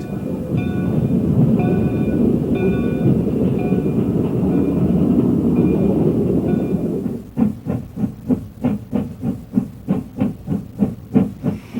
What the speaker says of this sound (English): Class I9SB 280 Consolidation number 1672 slips by.